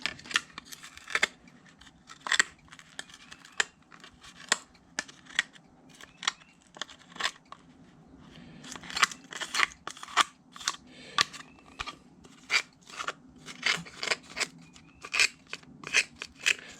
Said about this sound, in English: It's easier really to trim the glass coming around the flange than it is without the flange.